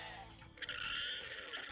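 Sheep bleating in the Age of Empires 2 strategy game, a short nasal bleat rising out of quiet background game sound, faint and brief.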